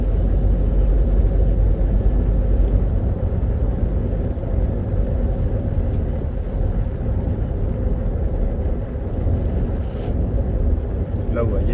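A 2019 Seat Ibiza driving with a gearbox noise: a loud, steady low engine and road rumble fills the cabin continuously, with no distinct whine standing out and no talking.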